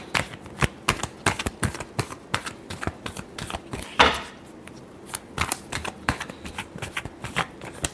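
A deck of tarot cards being shuffled, a rapid run of crisp riffling clicks and flutters in short bursts, close and fairly quiet, with no talking.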